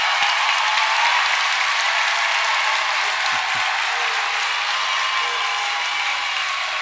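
Basketball crowd in a high school gym, Valley Boys versus Riverside, roaring with steady, loud, sustained cheering and applause that fills the whole stretch without letting up.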